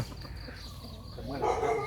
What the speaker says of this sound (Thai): คนรักไก่ชนนะครับมาแล้ว ตอนเช้า ก็เอาออกมา กุ๊กกุ๊กกุ๊กกุ๊กนี่